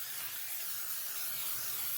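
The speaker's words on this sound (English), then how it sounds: "Spray," Cooking spray hisses onto a baking pan in one steady, close burst lasting a couple of seconds, with no voices over it.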